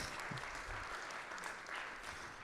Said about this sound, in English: I feel we should give them another round of applause.